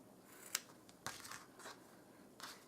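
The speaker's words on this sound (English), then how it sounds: "I'm going to cut this excess off." Scissors trim excess fabric off a handmade shabby chic rolled flower, a few soft, close snips spaced apart in a quiet room.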